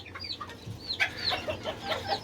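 High, chirpy peeping from several young chicks, close by and continuous.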